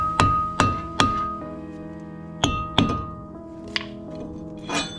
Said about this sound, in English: what I do have is my trusty rubber mallet